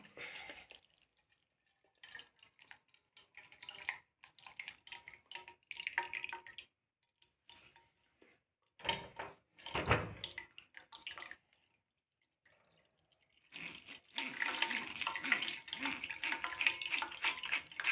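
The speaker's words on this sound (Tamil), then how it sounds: "இப்போ நம்ம இதை வந்து வடிகட்டிக்கலாம்" Blended pumpkin soup is strained through a sieve, with intermittent wet sloshing and dripping that ends in a steady, fairly loud stream of pouring liquid.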